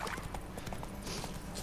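Horse hooves clip-clop in a quick steady rhythm in The Witcher 3, a faint, close gallop over ground with no talking.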